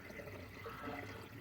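Water from a hose gurgles and bubbles steadily through a coolant pipe on an overheating 1987 BMW 635 CSI, a faint continuous churning flow with no break.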